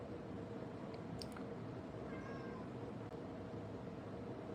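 A cat meows a few times over a steady background hum, faint and fairly distant, with a brief click partway through and no talking.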